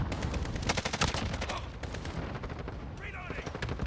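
A cluster airstrike in Call of Duty Modern Warfare (2019) during a Domination match, a rapid burst of loud, crackling explosions and gunfire-like reports, with voice chatter over it.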